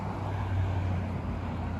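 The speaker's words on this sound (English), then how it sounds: "sorry about the road noise." Steady road noise fills a vehicle as it drives along, a constant broadband rumble with a low hum underneath, with no gaps or distinct events.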